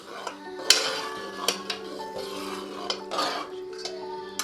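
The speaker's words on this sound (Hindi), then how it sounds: "स्लो फ्लेम पे 15 से 20 मिनट हम इसको भूनेंगे" Semolina is slowly roasted in a pan over a low flame while a spoon scrapes and clinks against the metal in irregular strokes, quiet and close, with a steady faint background hum.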